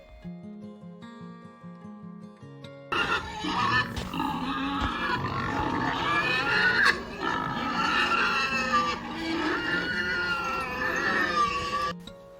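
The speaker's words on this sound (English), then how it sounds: "Pig" Busy squealing and grunting from pigs fills most of the clip, steady and fairly loud after a quieter opening.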